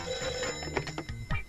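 A telephone bell rings indoors in a short burst of about a second and a half, fairly faint, with no voices over it.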